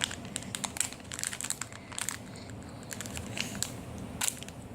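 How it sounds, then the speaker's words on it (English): A Crazy Bones blind bag being torn open by hand, close and crinkly, with irregular bursts of plastic rustling and crackling, no talk. "Rip it open a little bit more, son."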